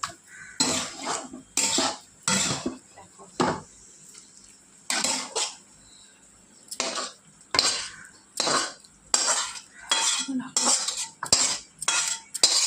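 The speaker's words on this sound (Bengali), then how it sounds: "আর বাসন আমি পালং শাকটা ঢেলে দেবো" Cooked spinach is tipped from a pot into a dish, heard as a series of loud metallic scrapes and clinks of a spoon against the pot in irregular bursts with short quiet gaps, close by and without speech.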